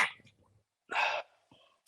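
A single short sneeze bursts out during a sports talk show, followed by brief breathy noises and quiet room sounds.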